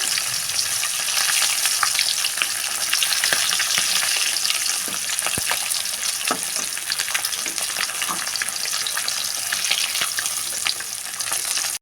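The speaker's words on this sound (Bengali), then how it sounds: "মাছ ভাজা হচ্ছে" Fish frying in a pan gives a loud, continuous hiss and crackle close up, broken by sharp spatula taps and scrapes, with no voices.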